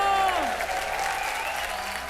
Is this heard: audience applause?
yes